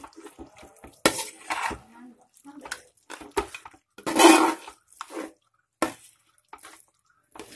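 Mutton curry being mixed in a pot after water is added: scattered scraping and clinking of a spoon against the pot in short bursts, with a louder stir near the middle and some wet sloshing, no talking.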